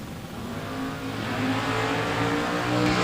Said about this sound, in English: Wheels up start for both drivers. Here comes Mariner in the Malibu at the stripe